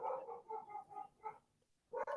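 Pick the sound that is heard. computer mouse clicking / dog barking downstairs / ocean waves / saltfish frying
dog barking downstairs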